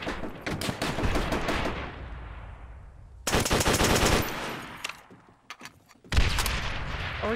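An MG42 machine gun in Call of Duty: World at War fires three loud, rapid, buzzing bursts up close, each separated by a short pause with trailing echo.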